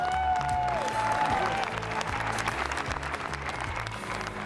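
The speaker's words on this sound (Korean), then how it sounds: "박수가 계속 이어집니다." Sustained applause fills a large hall at a film awards event, thick steady clapping with a low crowd murmur beneath and a brief tonal sound near the start.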